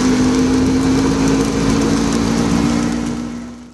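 A tuk-tuk's small engine drones loudly and steadily from the back seat while riding through Colombo, Sri Lanka, holding an even buzzing note that fades slightly at the end.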